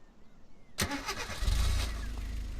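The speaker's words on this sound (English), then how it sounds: "Oh, this car, what are you doing?" A car engine in a Beyond Eyes video game starts abruptly with a sharp burst, then settles into a steady low rumble that fills the rest of the short moment.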